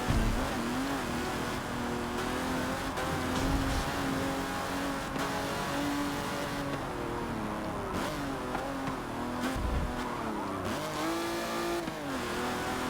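An Aston Martin DBR1 racing engine in the Forza video game drones steadily and loudly throughout, its pitch climbing and dipping as the car revs through gears, with no talking over it.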